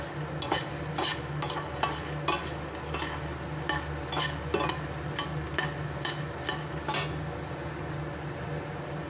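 Fox nuts (makhana) stirred and dry-roasting in a pan, with a steady rapid series of sharp spoon-on-pan scrapes and clinks over a low continuous hiss, close and moderately loud, no talking.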